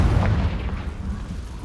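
The Confringo fire spell from the Hogwarts Legacy video game detonates in a deep, heavy boom, a single close blast that rumbles and fades over a second and a half.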